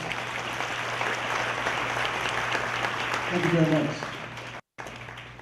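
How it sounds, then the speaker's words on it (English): Audience applause filling the room, a steady wash of clapping with a voice speaking briefly near the end before a sudden cut. "Can you give her a round of applause?"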